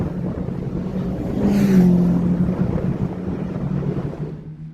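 Racing cars pass on a circuit, a rising and fading engine roar sweeping by at moderate distance with wind buffeting, no voices.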